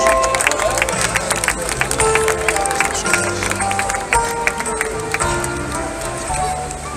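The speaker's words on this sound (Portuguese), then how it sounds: "uma salva de palmas para Boo." A crowd applauds steadily at an outdoor evening serenade during town festivities in Arcos de Valdevez, with cheering mixed in and some background voices, the clapping holding at an even level throughout.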